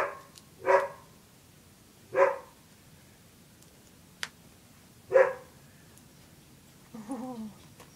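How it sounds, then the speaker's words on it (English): A pet dog barks indoors in three sharp, separate barks spaced a second or more apart, fairly near, followed by a brief softer yelp-like sound at the end. "oh, shush, socks! Sorry, that's my dog."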